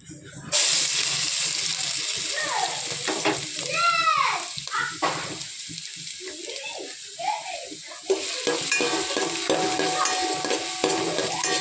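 Vegetables for fried rice, cabbage and onion among them, fry in a pan with chicken and garam masala, a loud steady hiss with stirring scrapes, while a voice talks over it at times.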